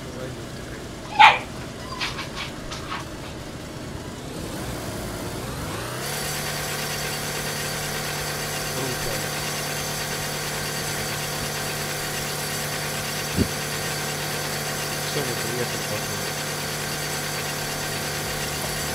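A car engine idles in the video game DayZ, a steady low drone that sets in after a few brief early sounds and runs on evenly to the end.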